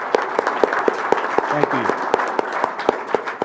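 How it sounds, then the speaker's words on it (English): Audience at a Rotary club program applauds guests with steady, sustained clapping from a medium-sized crowd, sharper individual claps standing out, while a voice briefly speaks over it. "Let's give all of our guests a warm round of applause."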